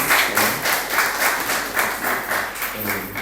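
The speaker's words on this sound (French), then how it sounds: "On peut applaudir pour que tout le monde bénisse." A congregation applauding during a French-language church service, dense steady clapping with a pulsing, slightly rhythmic swell, fairly loud and close, with no speech over it.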